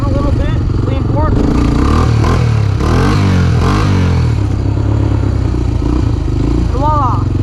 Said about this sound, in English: So, just gonna rev a little bit, lean forward.